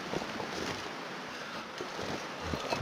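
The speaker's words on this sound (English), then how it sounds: "it's still pretty warm out, even though it's a little bit windy" Steady wind blows outdoors in a wintry wilderness, a continuous broadband rush that swells slightly toward the end, with no voices.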